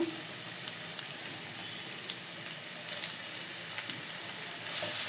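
Chopped onions frying in oil in a pot to make beresta for a Bengali rohu fish kalia, a steady, bright hiss and sizzle that continues without a break and swells slightly toward the end.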